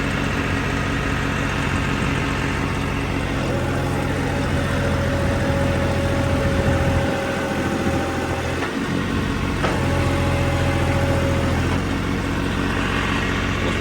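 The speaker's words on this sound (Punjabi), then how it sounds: "ਟਰੈਕਟਰ ਦੇ ਆਪਾਂ ਆਰਪੀਐਮ ਕਰਾਂਗੇ 17 ਨਾਲ ਚੱਲਦਾ ਹੈਗਾ" A John Deere 5310 tractor engine drones steadily with strong low rumble and a sustained whining tone, running continuously at elevated revs with no talk.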